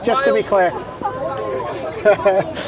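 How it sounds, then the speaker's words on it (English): A crowd of people gathers outdoors and chatters around a close voice talking loudly, with overlapping voices and murmur throughout. "we're getting a bit of a crowd now."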